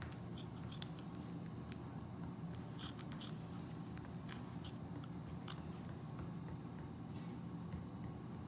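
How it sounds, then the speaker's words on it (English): Bandage scissors snip through a vet wrap bandage layer in a series of faint, crisp cuts and crinkles spaced irregularly over a quiet hiss, close by. "using my bandage scissors, I'm going to start with my vet wrap layer"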